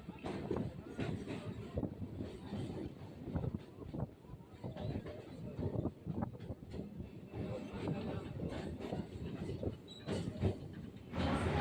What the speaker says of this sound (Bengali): এখন ট্রেন ঢুকছে টালিগঞ্জ স্টেশনে